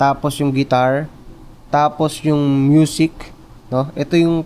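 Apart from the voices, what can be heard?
No everyday noises stand out.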